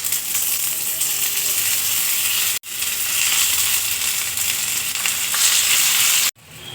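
Rolls fry in hot oil with mustard seeds and curry leaves, giving a loud, steady, close sizzle that briefly cuts out twice as the rolls go in.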